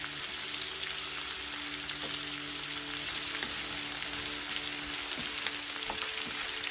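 Chopped onions, green chillies and curry leaves frying in oil for a prawn curry, a soft, steady crackling sizzle close by with faint spatter, no voices.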